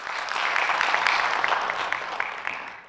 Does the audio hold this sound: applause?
yes